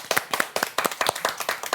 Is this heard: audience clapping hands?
yes